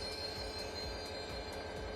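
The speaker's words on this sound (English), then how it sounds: "I suppose it is a train" A train in the video game DayZ slows toward a stop, giving a steady low rumble of wheels on rail with faint periodic clacks and a high sustained tone above, continuous and moderately distant.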